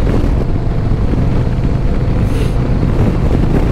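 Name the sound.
wind hitting rider on Harley-Davidson Road Glide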